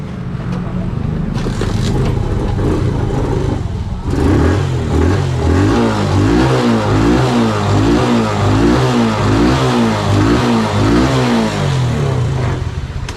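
A Suzuki Smash 115 motorcycle engine, just reassembled after repair with a converted CDI, starts and idles steadily with a rhythmic, throbbing putter, close and loud, after a few seconds of quieter mechanical clatter.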